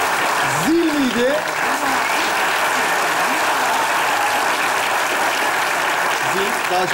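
Steady audience applause at a live comedy show, a continuous wash of clapping throughout with a voice briefly heard over it.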